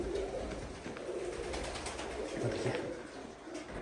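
Pigeons coo softly at a show pigeon loft in Ivano-Frankivsk, several low calls overlapping in a steady murmur through the clip, fairly quiet and with no voices over them.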